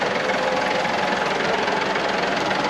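A tractor engine running steadily at close range during a corn harvest, a continuous low rumbling drone with a fast knocking pulse and no voices.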